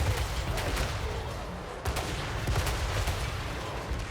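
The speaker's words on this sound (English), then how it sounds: "you gotta love the sound of the lead belchers firing" Lead Belcher cannons in Total War: Warhammer 3 fire in a rapid, overlapping barrage of booming shots, a dense battlefield fusillade continuing throughout.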